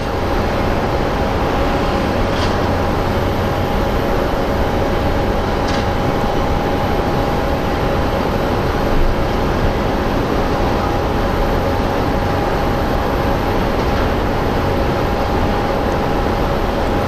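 An airplane takes off at Phoenix Sky Harbor International Airport, a loud, steady jet roar that holds evenly from start to finish with no voices over it.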